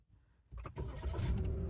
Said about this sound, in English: When we start the engine, let's turn it off again.